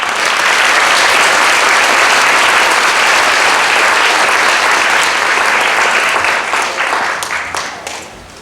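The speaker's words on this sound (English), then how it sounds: "let's give them a round of applause." Sustained audience applause at a school holiday concert, loud and dense from the start, thinning and fading toward the end.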